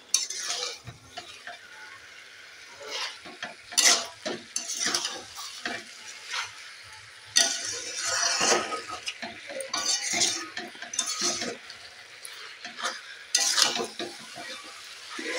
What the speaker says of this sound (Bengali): মাংসটা বেশ ভালো করে ভাজলে মাংসর পুরো গন্ধ ভাবটা কেটে যায়